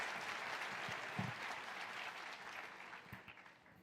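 Sustained crowd applause at a college commencement ceremony, welcoming the college president to the podium; dense steady clapping, moderately distant, fading slightly toward the end.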